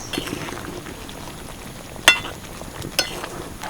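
Vegetarian cabbage curry gravy with chilli and garam masala simmers on low heat, a soft continuous bubbling sizzle close by, punctuated by two sharp clinks of a utensil.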